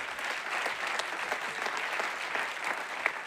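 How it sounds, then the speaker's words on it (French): Audience at a regional sports merit awards ceremony applauding, a dense steady clapping from a sizable crowd in a hall, continuous and even with no voices over it. "Et on peut les applaudir"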